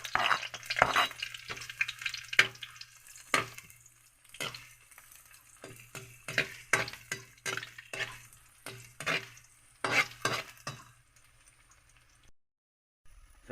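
Ginger, garlic and onion sauté in a pan, cooked outdoors by the sea, with bursts of close stirring and scraping over a quiet sizzle and brief pauses between strokes.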